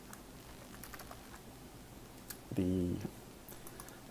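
Typing on a computer keyboard: faint, scattered key clicks at a steady low level, briefly interrupted by a short spoken word.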